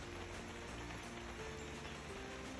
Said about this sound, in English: As you can hear, the rain's starting to come down now.